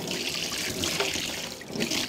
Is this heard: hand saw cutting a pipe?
no